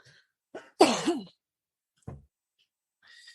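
A single harsh cough, close and sharp, with a couple of smaller throaty sounds before and after it amid near silence.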